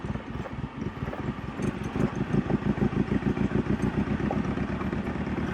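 The engine of a manual car driven by a learner, chugging low and steady as the clutch comes up and the gas goes down. The pulsing rumble grows louder and faster through the clip.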